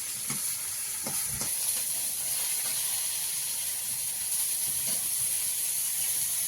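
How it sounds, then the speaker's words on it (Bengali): Fish sizzles in a hot pan with a steady, close hiss that holds constant throughout, broken by a few soft clicks near the start. "দেখো মাছ ভাজা হচ্ছে"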